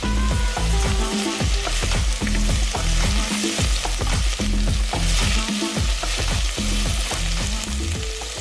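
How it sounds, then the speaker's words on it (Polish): Garlic and onion fry in heated olive oil in a pot, a loud continuous sizzle broken by regular rhythmic scraping pulses of stirring. "W garnku lub na patelni rozgrzewacie oliwę i będę teraz wrzucać czosnek, cebulkę i chwilę je podsmażać."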